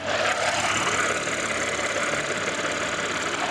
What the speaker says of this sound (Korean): 디젤 엔진보다 관리가 쉬운 휘발유 엔진을 탑재하고 있어 엔진 소음도 정말 조용하고 정숙한 차량이고요